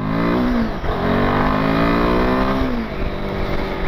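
A 2024 Royal Enfield Himalayan 450 motorcycle engine revving and accelerating on a test ride through town, a loud steady rising drone with a brief dip as it shifts gear, close and continuous.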